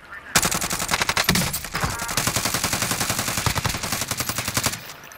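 Rapid automatic gunfire from a video game, a loud sustained burst of fast repeated shots lasting several seconds before cutting off, with a brief faint voice partway through.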